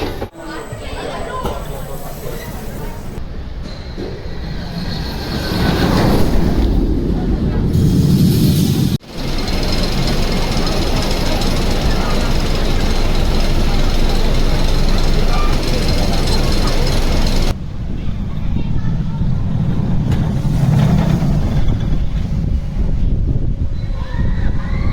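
Gerstlauer roller coaster Junker rattling loudly and continuously through the ride, with roaring wind and rumbling track noise and riders chattering underneath.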